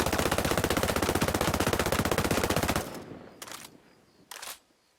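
Rapid automatic rifle fire from Ghost Recon Breakpoint, a steady fast stream of loud shots lasting nearly three seconds, then stopping abruptly, followed by two short isolated bursts of noise as the echo fades.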